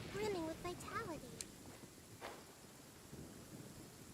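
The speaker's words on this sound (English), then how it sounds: "Did you know that the sound of thunder is the prelude to new life?" Thunder rumbles under steady rain in the Genshin Impact video game, with a voice speaking over the opening moments before the rain hiss carries on alone.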